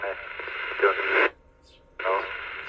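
Radio transmission with a narrowband, crackly voice over hiss, cutting out briefly into near silence before another burst of transmitted speech.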